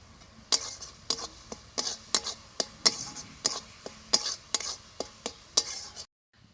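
A spatula scrapes and stirs a coconut filling in a pan over low heat, about a dozen evenly spaced sharp scraping strokes close by, then a sudden stop into near silence.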